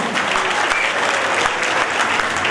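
A crowd at a Keer community talent award ceremony in Bhilwara applauds loudly for a visiting saint, a steady dense roar of many hands clapping throughout without pause.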